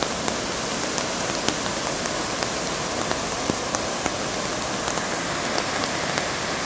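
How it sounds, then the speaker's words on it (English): Heavy, steady rain pours down during the 2013 Boulder, Colorado flood, a dense continuous hiss of drops on surfaces with scattered sharper splats, loud and close throughout. "And it is still raining."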